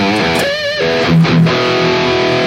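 An electric guitar plays through its bridge humbucker into a Mooer GE200 Freeman amp model, a modded-Marshall style tone. Short, loud distorted chords and bends ring out for a few seconds, with no voice.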